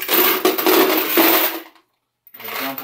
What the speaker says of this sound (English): I'm going to take these bullets